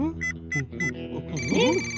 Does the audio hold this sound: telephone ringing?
yes